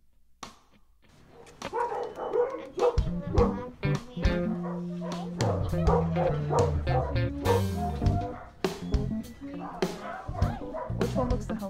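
Several small puppies yip and bark in quick, high-pitched bursts, with whimpers mixed in, close by and nearly continuous.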